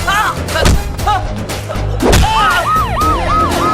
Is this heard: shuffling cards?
no